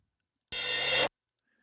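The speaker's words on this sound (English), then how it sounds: "this reverse cymbal," A reverse cymbal sample played soloed during music production, a single swelling wash of bright noise that builds for about half a second and cuts off abruptly, alone in otherwise silence.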